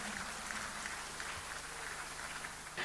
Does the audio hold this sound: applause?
yes